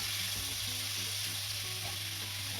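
Thin-sliced bacon sizzling in a pan for carbonara, a steady bright crackle of fat spitting with faint stirring bumps underneath, close and continuous with no talking.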